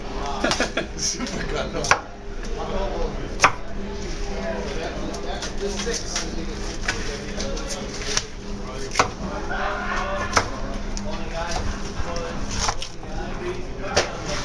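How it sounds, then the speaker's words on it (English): A knife working through a salmon fillet on a cutting board at a Pike Place fish market stall, with repeated close scraping and chopping knocks over a busy background of market chatter and voices. "I'm going to show you how to fillet a salmon Pike Place style."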